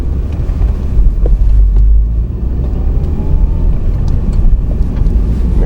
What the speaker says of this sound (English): I'm accelerating into a straight line